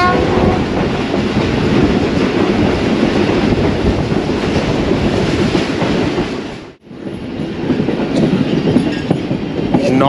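A passenger train, the 9UP Allama Iqbal Express, rumbles along the track near Pattoki station on a foggy winter morning, its loud continuous roar and wheel clatter close by, briefly cutting out mid-way before resuming.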